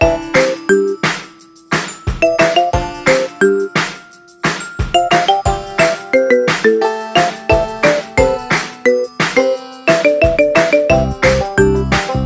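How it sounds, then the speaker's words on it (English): A marimba remix of The Walking Dead theme plays as a ringtone, bright struck mallet notes in a repeating melodic pattern with bass notes, loud and clear with no voices. "Make your phone ring with your favorite TV show theme."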